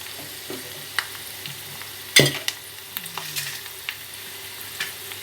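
Ghee and curry leaves sizzle as a tempering goes into tomato dal in a home kitchen: a sharp burst of frying crackle, then scattered pops and spoon stirring against the pot, close and alone without talk.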